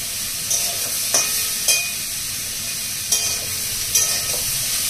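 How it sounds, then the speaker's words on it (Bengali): Pointed gourd, potato and eggplant lightly frying in a pan with a steady close sizzle, broken by several sharp scrapes and clinks of a spatula stirring the vegetables. "তো সেই সবজিগুলোকে হালকা একটু ফ্রাই করতে হবে।"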